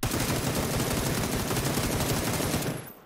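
Automatic gunfire from a full magazine emptied while aiming down sights in PUBG, a dense rapid rattle of shots sustained for nearly three seconds before cutting off abruptly.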